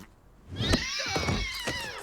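A cat in a video game gives a drawn-out meow after a short quiet start, loud and close with a wavering pitch, followed by a few shorter mewing sounds.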